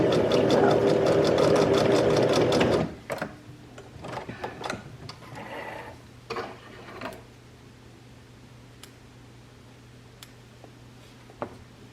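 A sewing machine stitches fabric for a small handmade gift, running in a dense, rapid mechanical whirr for about three seconds before stopping. Scattered clicks and light handling taps follow over a faint, steady hum.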